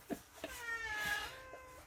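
A pet cat meows indoors, a drawn-out harmonic cry rising and holding near the middle, preceded and followed by a few shorter chirpy calls, fairly close and moderately loud with no talk over it.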